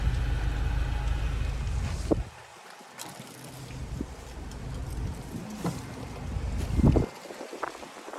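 Heavy wind on a cold day buffets the microphone beside a 2025 Chevy Traverse High Country in loud low roaring gusts, easing off between bursts, with faint clicks and knocks underneath.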